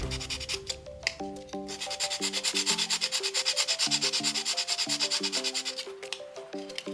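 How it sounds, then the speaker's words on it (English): Sandpaper rubbing along the edges of a large resin D20 dice jar, a close rhythmic rasp of quick back-and-forth strokes that grows steady and regular through the middle, with faint tonal music underneath. "So you carefully clean off the edges like this with the sandpaper."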